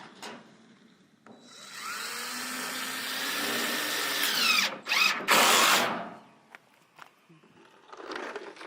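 A power drill drives roofing screws into the wooden frame of a chicken coop, running in long loud whirring bursts with several short sharp stops and restarts, close by.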